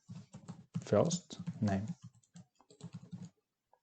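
Light keyboard tapping while filling in contact form fields, short soft clicks mixed in under steady spoken instruction throughout.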